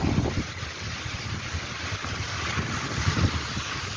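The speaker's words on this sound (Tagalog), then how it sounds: "Ang ganda ng dagat." Sea waves wash steadily onto the shore at Aurelio under constant wind buffeting the microphone, a broad continuous roar with a few louder surges of surf and no voices.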